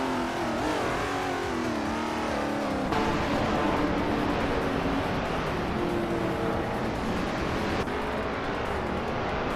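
Racing video game cars, including a 1969 Dodge Charger Daytona and a 1969 Ferrari 365 GTB 4 Daytona, roar continuously with layered engine drones whose pitch shifts as gears change, loud and steady throughout with no speech.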